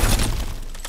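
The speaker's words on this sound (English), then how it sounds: "Back to smashing through things." Breakable objects shatter in God of War Ragnarok gameplay, one loud, close crash of splintering debris that decays quickly.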